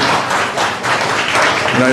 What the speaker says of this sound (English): Just a round of applause for Remy and Oz Arab Media, guys.